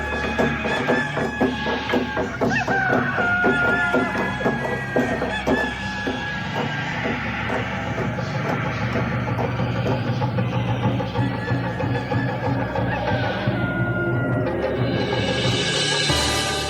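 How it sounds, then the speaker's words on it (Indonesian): Rooster crowing sound effect played during a madrasah school stage performance, several loud overlapping crows and clucks repeating throughout over a busy background. "Mengapa terdengar kokok ayam?"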